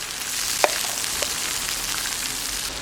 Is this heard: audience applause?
no